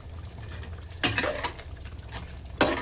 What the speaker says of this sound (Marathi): असे मिक्स करून घ्या.